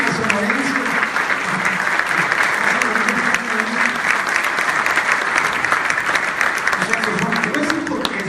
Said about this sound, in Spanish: Denle un aplauso a don Luis Luna.